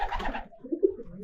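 A loft pigeon cooing up close, a soft low throaty coo following a brief rustle, heard alone.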